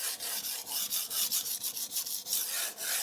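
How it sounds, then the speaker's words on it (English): A kitchen knife is worked over the 600 grit side of a Shibata whetstone, a steady rhythmic scraping of steel on wet stone with about a dozen back-and-forth strokes, close and clear with no talk. "let's start with the 600 grit side to form a new edge"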